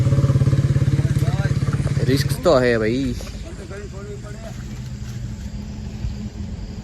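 A tractor engine hauls on a rope tied to a peepal tree being felled. A loud, steady engine drone fills the first two seconds, then someone speaks over a lower, rougher rumble.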